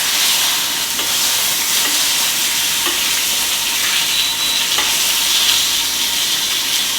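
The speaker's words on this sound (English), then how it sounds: "our pan is hot now. We're gonna put our beef on it." Wagyu beef cubes sear in a hot pan, a loud, continuous, close sizzle and hiss that holds steady throughout with faint stirring clicks and no talking.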